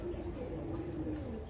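Pigeons coo softly and continuously at a farm where pigeons are sold, with low, faint calls over a steady background hum.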